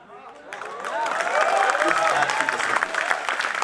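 Audience applause at a Hindi poetry gathering (kavi sammelan), with children raising their hands to clap, a dense, steady wash of clapping that swells after the first half second and continues under a speaking voice.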